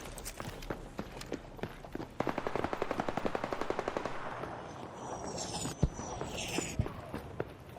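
Rapid automatic gunfire in the video game ARC Raiders, a fast run of crisp shots in the middle with single scattered shots and footstep-like taps before and after, moderately loud.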